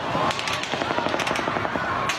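Rapid bursts of automatic gunfire during the Las Vegas mass shooting, recorded from a box seat at the venue, with dense, sharp cracks firing continuously and loudly for the whole stretch.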